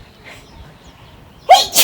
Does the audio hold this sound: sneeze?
yes